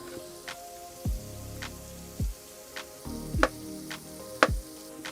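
Eggs for an omelette sizzle faintly in a pan inside a campervan, a soft steady crackle broken by a few louder clattering knocks of utensils against the cookware.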